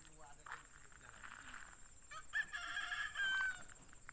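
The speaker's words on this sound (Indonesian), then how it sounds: "Ya, ada suara ayam berkokok." A rooster crows near rice paddies in a rural farm setting, one clear drawn-out call rising over faint background voices and ambient noise.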